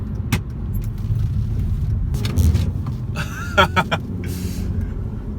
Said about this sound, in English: Already, you can tell this car just wants to go.